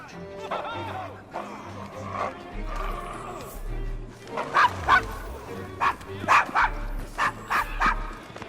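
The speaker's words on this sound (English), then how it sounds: "Is your dog quite all right?" In the Assassin's Creed Syndicate video game, set in the Devil's Acre district, a dog barks and growls in repeated bursts at close range, with characters speaking between and around the barks.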